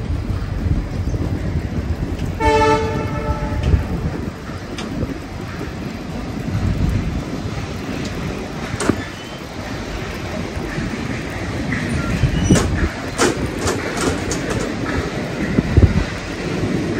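A passenger train, the Sirsa Express, rumbles along the line with heavy wind buffeting the microphone. A brief, loud horn blast sounds early on, and the steady running noise continues beneath it.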